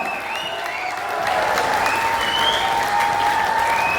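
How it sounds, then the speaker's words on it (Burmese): An audience at a speech event claps in steady, dense applause that grows slightly louder partway through, with thin whistle-like tones drifting above it. "လက်ခုပ်တီးကြရအောင်"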